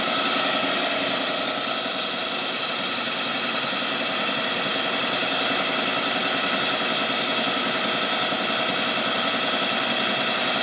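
A boring machine cuts steadily into a 1958 Harley-Davidson Panhead 74ci cylinder, a continuous close mechanical whir and hum with even grinding texture and no breaks.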